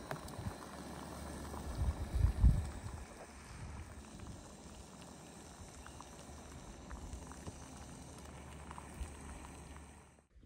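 Water boiling on a Soto camping stove for coffee outdoors makes a faint, steady low bubbling hiss, with a brief louder rumble early on.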